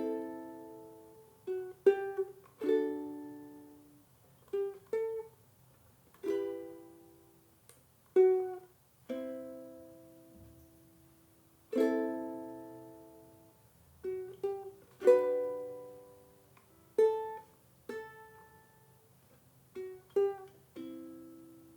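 A ukulele fingerpicking the intro of a song, playing clear, gentle plucked notes one at a time in a slow, steady pattern with quiet gaps between phrases and nothing else sounding.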